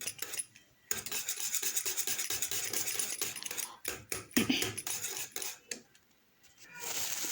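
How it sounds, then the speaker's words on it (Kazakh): Steady scraping and rubbing of a utensil stirring thick custard cream with butter in a bowl, repeated rhythmic strokes with brief pauses, close up. "Жақсылап араластырып."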